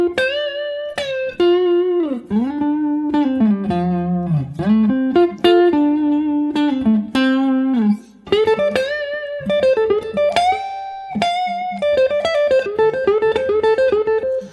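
Electric guitar playing a riff with a distorted, effects-laden tone, sustained bent notes and sliding phrases in a steady, loud run, played alone.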